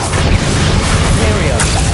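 Bombarda spell blast in Hogwarts Legacy, a loud booming explosion with a crashing burst that fills the short moment, heavy and close.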